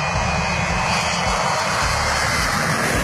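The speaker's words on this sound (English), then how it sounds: "An Aero Sucre cargo plane was preparing for takeoff" An overloaded Aero Sucre Boeing 727 cargo plane takes off with a loud, continuous jet engine roar that stays close and steady throughout, with no voices.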